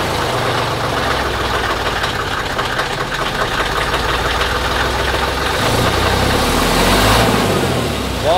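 A Magirus Deutz Mercur fire truck with a 9.5-litre engine runs loud and close at a trade fair, a deep knocking diesel idle that rises in revs and surges toward the end as the vehicle pulls away.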